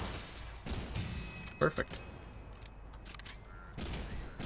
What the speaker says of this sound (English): Now you guys can just stand still while I shoot you.